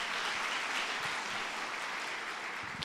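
A church congregation claps through a worship service, steady dense applause filling the room from start to finish with no talking over it.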